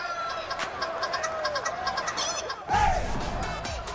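Small Serama chickens at a chicken beauty pageant cluck and call against a noisy, bustling background, with a louder squawk near the end.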